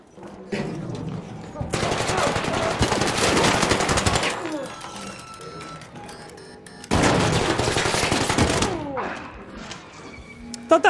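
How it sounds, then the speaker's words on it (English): Gunfire in the Arc Raiders video game: two long, loud bursts of rapid shots with echoing tails, separated by quieter game ambience and a few sharp pops near the end. "Thought that first shotgun shot would have killed him."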